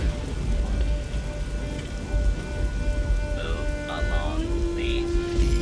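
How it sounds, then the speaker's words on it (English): Steady rain hisses and patters throughout in Fallout 3, a dense, constant wash of sound, while brief tonal electronic blips and a sustained tone enter near the end. "I'll get out of the rain."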